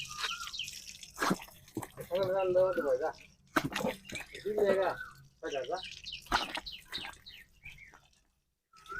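Someone washing their face with water, with intermittent splashes and drips between stretches of close talking, plus a few faint chirps in the background.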